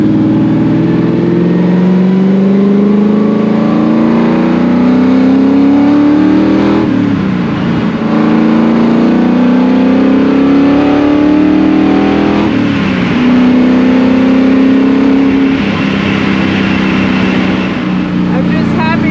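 Ford GT40 race car engine revving loud and close at Clark Speedway, rising in pitch through repeated pulls with brief drops between gear changes, steady heavy drone throughout.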